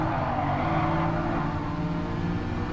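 A Mercedes touring race car accelerates hard out of a corner in a DRSL 2020 sim race, its engine note droning steadily and loudly throughout, with no gaps or voices.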